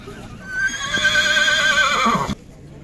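At a horse market in Bishkek, a horse lets out a loud, close whinny lasting about two seconds, shaking and falling in pitch before it cuts off sharply.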